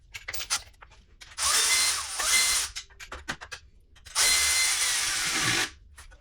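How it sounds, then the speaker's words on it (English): A power tool snugs down the heat shield on a Redline 'Shorty' 2-1 exhaust in two loud, close whirring bursts separated by quieter clicks and handling noise. "And then I will go ahead and snug this heat shield down."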